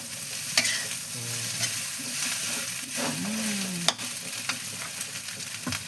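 Metal utensil scraping and stirring fried rice in a wok with a soft sizzle underneath, irregular clanks and scrapes up close.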